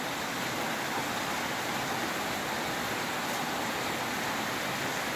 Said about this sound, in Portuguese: Dia chuvoso.